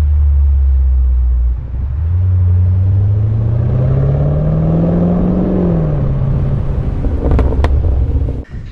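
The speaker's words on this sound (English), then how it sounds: "It gives you a really nice, robust V8 tone." Land Rover Defender V8 P525 with a stainless exhaust, resonated centre box, H-pipe and valve open, giving a loud deep rumble that climbs in a rev and falls back, close and alone.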